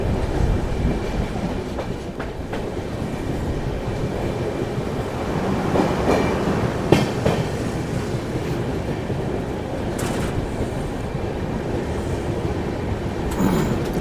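The Goa Express train rolls along with a constant loud rumble and rattle of carriages and wheels, heard from inside the train, with occasional knocks and squeaks and no talking.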